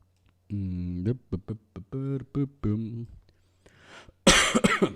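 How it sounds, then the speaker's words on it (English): A voice makes a short drawn-out sound, then a string of hacking coughs, followed by a harsh, raspy cough close to the mic. "Sorry, still have a bad cough."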